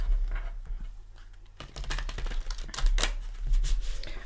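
A new, thick Light Seekers tarot deck is shuffled by hand, giving close, crisp rapid riffling and card-slapping bursts with short pauses between shuffles. No voices.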